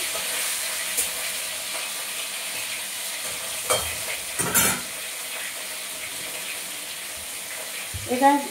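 Fish fry in a pan with a steady soft sizzle, broken by a few stirring scrapes and clinks, then a short voice-like sound near the end.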